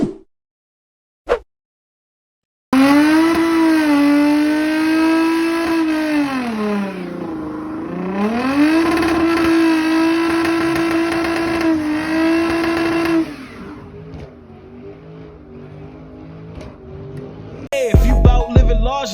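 A Tesla Model 3 doing donuts at a Maryland car meet gives off a loud whining electric motor tone that swoops up and down in pitch for about ten seconds. A few sharp knocks come before it, and the noise fades into crowd clatter afterward.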